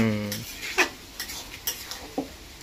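Pointed gourd and shrimp curry stirred in a pan, a spoon scraping and clinking against the metal in a few irregular knocks over a faint sizzle, with a brief voice at the start.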